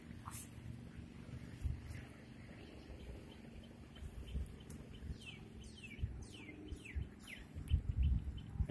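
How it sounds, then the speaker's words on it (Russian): A bird perched in the trees in Phuket, Thailand, repeats a series of quick, sweeping chirps, moderately near and clear above a soft outdoor background with low rumbling noise. "Эта птичка вон там сидит."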